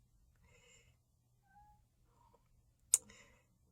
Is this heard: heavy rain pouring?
no